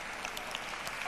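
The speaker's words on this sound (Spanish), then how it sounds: "la Sociedad de la Tierra Plana agradece los aplausos" An audience claps at a Naukas Bilbao 2023 science talk on Benidorm and the Earth, heard as faint, brief, scattered applause in a large hall.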